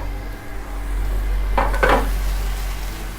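Butter goes into a pan of gnocchi in a restaurant kitchen, giving a brief burst of sizzle and a light clatter over a steady low background hum.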